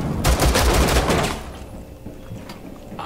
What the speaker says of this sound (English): Shots fired, return fire.